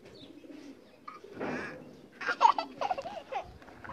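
Pigeons of a home-bred Pakistani fancy breed coo softly up close in short murmuring phrases, with faint voices nearby.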